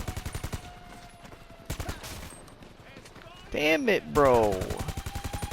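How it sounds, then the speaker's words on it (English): Rapid automatic gunfire during the Cayo Perico heist finale in GTA V, sounding as steady machine-gun bursts that pause briefly and resume, with someone talking over part of it and other game sounds swooping through. "Who is shooting me?"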